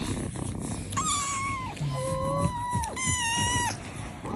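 Several kittens meow in turn, high thin cries rising and falling over a few seconds, close and fairly loud over a steady background hum.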